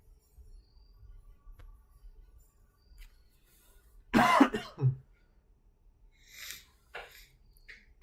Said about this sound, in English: that's why I'm kind of coughing and stuff like that